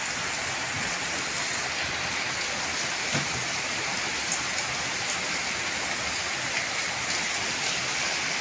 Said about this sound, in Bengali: প্রচুর বৃষ্টি হচ্ছে, মুষলধারে বৃষ্টি পড়তেছে।